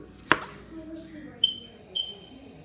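A sharp knife slices through mushrooms on a cutting board with one crisp, close cut, followed by a couple of faint, brief ticks against a quiet kitchen background.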